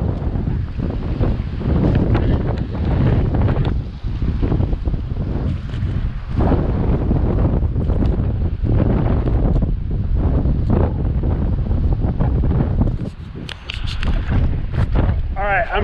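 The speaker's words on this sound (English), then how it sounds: "this wind is just so crappy" Gusty wind buffets the microphone beside a stream during a fishing outing, a steady, loud, rumbling roar that fills the whole stretch without letup.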